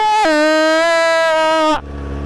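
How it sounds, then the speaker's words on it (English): A car spins old, non-smoking tires in a dry burnout, engine wailing loud and steady at high revs for under two seconds before cutting off abruptly to a low idle. "I'm doing a dry ass burnout."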